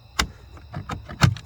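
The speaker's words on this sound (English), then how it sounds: "open this back door to the hen house" A back door of a hen house being opened, with a few short wooden knocks and rattling clunks spaced unevenly, close by and fairly quiet.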